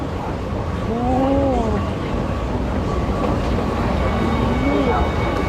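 A Bangkok BTS Skytrain train at Asok station produces a loud, steady rumble with rising and falling whines, while a voice talks over it.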